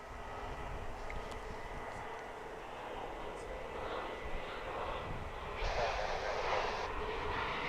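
Airliner jet engines at DFW International Airport, a Dreamliner among them, give a steady distant roar that swells slightly toward the end, with people talking over it.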